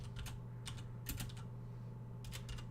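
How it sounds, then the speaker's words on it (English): Clicky keystrokes on a mechanical keyboard come in short bursts of several presses each, separated by pauses, over a low steady hum. "I'm trying not to type too much because I have a mechanical keyboard"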